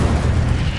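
A single Incendio fire spell from the Hogwarts Legacy video game, a short, loud, dense roaring burst of flame.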